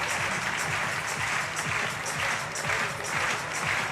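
A crowd at a men's bouldering final at the 2022 European Championships in Munich claps and cheers in a continuous dense wash of applause, steady and fairly distant.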